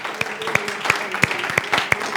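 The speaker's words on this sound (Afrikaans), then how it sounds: "Kom ons staan net so 'n bietjie op ons voete gou en gee die Here lekker hande klap." A standing church congregation clapping their hands in praise to the Lord, sharp loud claps landing in a quick regular rhythm over a dense bed of softer applause, fairly close.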